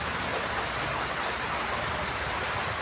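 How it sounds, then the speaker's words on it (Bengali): Steady, dense rain pouring down, a constant hiss of drops hitting surfaces with no pauses and no voices. "এত বৃষ্টি আর বৃষ্টি দিনে রাত্রে খালি বৃষ্টি আর বৃষ্টি এতই বৃষ্টি হচ্ছে"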